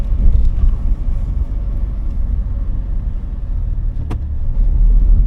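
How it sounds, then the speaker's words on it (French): Steady low engine drone and road rumble from inside a moving Porsche, continuous and fairly loud, with no voices. "j'espère que vous entendez parce que là, on est dans la Porsche là."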